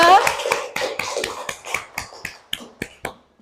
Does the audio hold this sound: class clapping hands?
yes